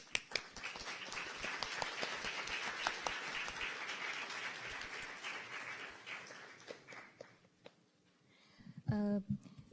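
An audience at a UNESCO ESD youth conference opening ceremony in Okayama claps to see a guest off. Moderate, fairly distant applause swells and then thins to scattered claps, and a brief voice sounds near the end.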